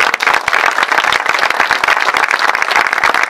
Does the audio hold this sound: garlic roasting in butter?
no